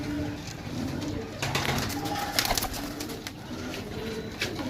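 Pigeons offered for sale in Sarai Alamgir, Jhelum, Pakistan, coo in soft, repeated throaty phrases over a constant background hum, with occasional louder calls standing out nearby.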